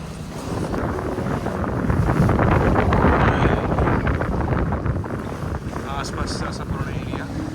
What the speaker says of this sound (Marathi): आपण जी केली आहे ती प्रायव्हेट बोट केली आहे. ही स्लो आहे थोडी